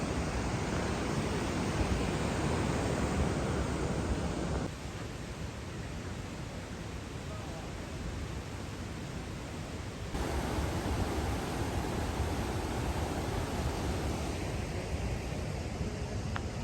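Yosemite Falls roaring, a dense, steady broadband rush of falling water with no breaks, loud and enveloping from close range, its level shifting slightly as the position changes.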